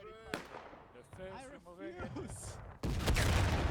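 Artillery fire in the War of Rights video game, a sudden loud blast and rumbling burst near the end, after a stretch of talking voices.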